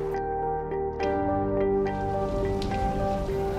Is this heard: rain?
yes